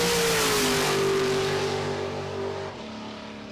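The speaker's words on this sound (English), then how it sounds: "632 cubic inches in that 63 Corvette" A 1963 Corvette with a 632 cubic inch engine revving loud and close, a sustained roaring tone that sweeps down and drops off near the end.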